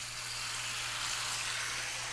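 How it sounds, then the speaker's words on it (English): Chicken deep frying in hot coconut oil in a pot gives a steady, even broadband hiss with no breaks, fairly soft and close, over a low constant hum. "we're deep frying in coconut oil"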